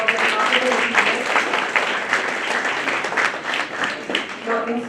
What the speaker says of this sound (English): Let's give a big round of applause to all the winners for their remarkable achievements.